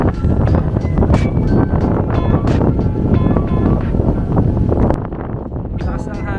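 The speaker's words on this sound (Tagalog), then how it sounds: "Lakas ng hangin talaga dito." Strong wind roars and buffets the microphone with dense broadband rumble at the Chocolate Hills in Bohol, Philippines, easing slightly near the end, while faint talk sits underneath.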